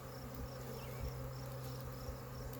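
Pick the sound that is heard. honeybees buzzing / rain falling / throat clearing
honeybees buzzing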